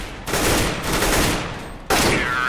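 Gunfire in Counter-Strike: Global Offensive, loud bursts of rapid shots in three clusters, each separated by a brief gap, with the last burst starting sharply near the end.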